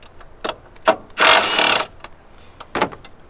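A socket wrench works an 11 mm socket on a valve cover bolt of a 2007-2013 BMW 328i E90 engine, giving a few sharp close ratchet clicks and then a longer burst of ratcheting, with no talk.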